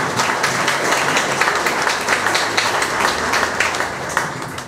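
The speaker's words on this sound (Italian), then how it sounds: "grazie a lui, che è il sindaco Ciro Caravà, a cui invito a fare un applauso." Audience applauding at a political campaign committee opening in Mazara del Vallo, Sicily: dense, sustained clapping from a sizable crowd, loud and continuous for several seconds without talk.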